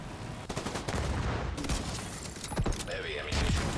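Rapid gunfire and sharp blasts from The Division video game arrive in quick clustered bursts, loud and near, with a mechanical whine rising near the end.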